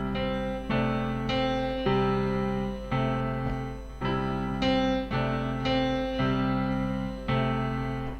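The opening two bars of a beginner-level boogie are played on piano: repeated chords and bass notes in a steady, bouncing rhythm, heard up close at moderate volume with no talking over them.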